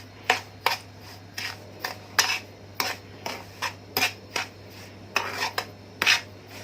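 Breadcrumbs stirred and scraped in a dish for chicken panée, giving a series of short, distinct scraping and clinking strokes in an irregular rhythm, close and fairly quiet, with no talking.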